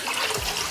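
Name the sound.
pouring water onto washed rice and lentils for pongal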